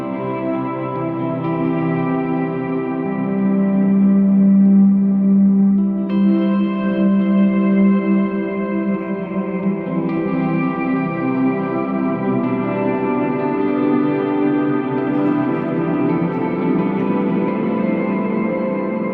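Worship-style electric guitar plays a 4/2 chord voicing with an added bass note, fuller sustained chords drenched in echo and reverb, with new notes entering around the middle, played alone.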